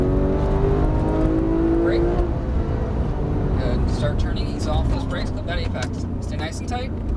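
A Porsche 991 GT3 accelerating on a race track, engine note climbing steadily under a continuous roar, with an instructor's voice talking over it from inside the car.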